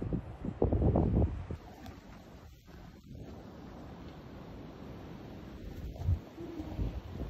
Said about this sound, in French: avec ce vent glacial